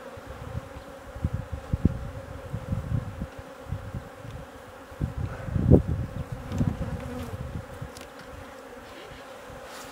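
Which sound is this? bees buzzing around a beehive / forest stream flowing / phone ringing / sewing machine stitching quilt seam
bees buzzing around a beehive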